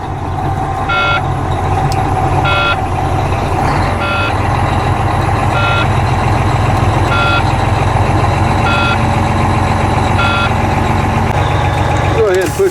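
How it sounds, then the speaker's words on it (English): A truck reverses into a repair shop, its backup alarm sounding a regular series of sharp, evenly spaced beeps over a loud rumbling diesel engine. "We'll back this thing in the shop."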